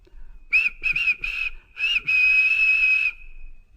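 A shrill steam engine whistle in a Roblox game sounds in several short bursts, then holds one long steady tone before cutting off, loud and clear with nothing else around it.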